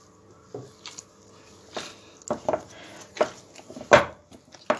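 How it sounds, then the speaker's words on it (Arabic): Soft, irregular squishing and patting as date pastry dough is kneaded by hand, with quiet close-up slaps and presses spaced unevenly, alone with no talk. "هبدا اعجن بايدي"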